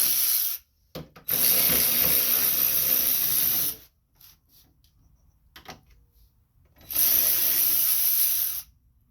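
A 5/16 socket ratchet clicks as bolts come out of a Lawn-Boy snowblower carburetor, two long bursts of rapid ratcheting separated by quieter fiddling and short clicks.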